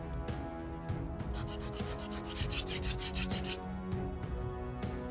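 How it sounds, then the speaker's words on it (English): Sandpaper rubs back and forth over the walls of a small UV resin zodiac charm, a close, continuous rasping scratch with fast regular strokes and no talking. "we sand the resin walls down so that the edges provide better grip as well"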